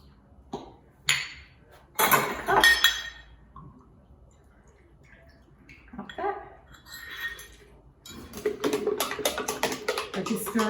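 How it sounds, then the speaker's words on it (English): Utensil clinking against a bowl while stirring balsamic vinegar dressing for a zucchini and chorizo slice, with irregular clinks and scraping bursts close by, louder toward the end. "stir it like this, so it's combined"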